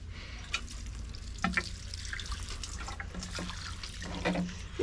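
Water poured from a watering can into trays of potted plants, including a Lowiacos truncata, making soft trickling and splashing bursts that come and go under steady low room noise, fairly close and moderate in level.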